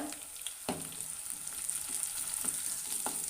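Green chillies with crushed garlic sauté in a pan for a Kanambu mango fish curry, a steady close sizzle broken by a few sharp spoon scrapes and clinks, with no talking.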